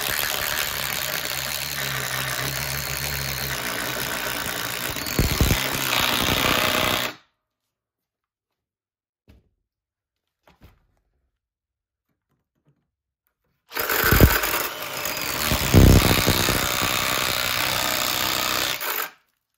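DeWalt DCF850 impact driver at maximum speed boring a hole through three stacked boards, a loud, continuous rattling hammer-like drone that runs for several seconds, falls to near silence, then resumes just as loud.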